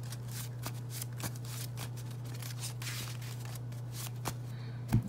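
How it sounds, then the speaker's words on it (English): A deck of Yu-Gi-Oh! cards is shuffled by hand: a soft, continuous riffling rustle with a few sharper card snaps, close and fairly quiet over a steady low hum. "Let's shuffle since we did have to search."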